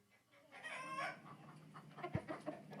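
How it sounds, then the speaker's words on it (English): A rooster crows with a drawn-out, harmonic call, then follows with a run of short, sharp clucks, close and fairly loud with no talk over it. "there's an actual channel reviewing roosters."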